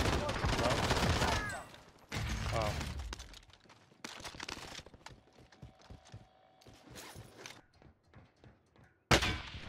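Gunfire in the video game Warzone: loud bursts of rapid automatic fire and scattered single shots, some close and some farther off, with quieter gaps between volleys and a sharp burst at the end.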